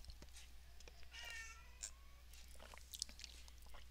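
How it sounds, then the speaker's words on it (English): A geriatric black cat meows indoors, with a few short, faint cries over a low steady hum and some small clicks. "And if you heard my cat, that would be the geriatric black kitty."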